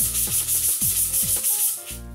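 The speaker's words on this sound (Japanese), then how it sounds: "それでは力を入れてスポンジ洗いをしていきます。" Rhythmic rubbing strokes of a Daiso sponge scrubbing soap scum off a bathtub surface, about five firm back-and-forth passes with a bright hissing friction quality, close and alone.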